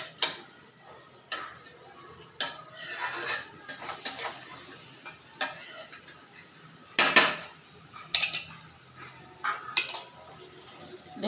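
Goat meat frying in a pot is stirred with a utensil, giving irregular metallic scrapes and clinks against the pot at intervals, fairly close, over a quiet background sizzle.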